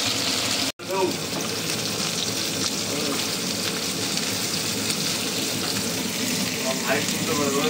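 Fish frying in a pan, meant to be cooked later with mustard and green chili paste; a steady, close sizzle continues throughout after a brief cut near the start, with a faint voice in the background.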